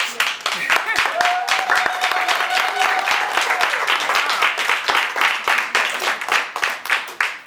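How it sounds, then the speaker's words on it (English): Sustained, dense applause from a crowd at Mama Naasra's birthday celebration in The Gambia, loud and continuous clapping with cheering voices mixed in throughout. "could you please give Mama Naasra a round of applause?"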